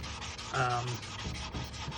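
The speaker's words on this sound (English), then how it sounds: "since I'm sanding pretty much everything, that I'm getting anything that's smooth" Sandpaper rubs steadily over the plastic hull of a 1/400 Glencoe SS France model ship, a close, continuous scratchy friction with a brief squeaky tone partway through.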